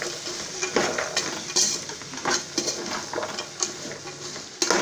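Vegetables for a veg kurma stirred in a frying pan: a steady sizzle broken by repeated scraping strokes of a spoon against the metal, close and fairly loud, with no voices.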